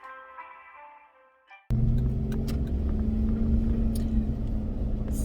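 A car's interior road noise on the drive to work, with a steady low engine rumble and tire hum that starts abruptly after a quieter opening and holds loud and constant.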